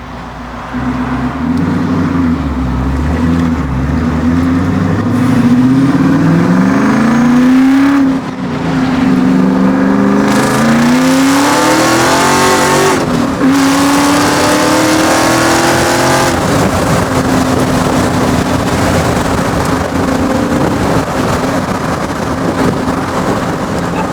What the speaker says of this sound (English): You want to take it for a little spin while it's running?